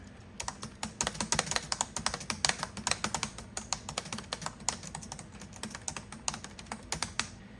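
Rapid typing on a vintage Dell Inspiron laptop keyboard, crisp clicky keystrokes in quick uneven bursts, close up and alone with no talking.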